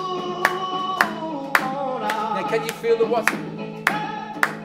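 Steady hand claps keep time with a recorded song during a music lesson on clapping subdivisions, sharp regular beats roughly every half second over the music while a teacher's voice speaks.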